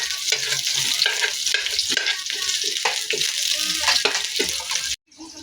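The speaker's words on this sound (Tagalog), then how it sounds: "sangkutsa na natin ng bawang at sibuyas" Garlic and onion sautéing in hot oil for ginataan sugpo with crabs, a loud continuous sizzle with stirring scrapes throughout, cutting off abruptly near the end.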